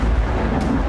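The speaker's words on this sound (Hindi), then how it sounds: "जोरदार धमाका हुआ।" A Kinzhal missile strikes the ground in a loud, rumbling explosion, a short heavy boom that fills the whole second.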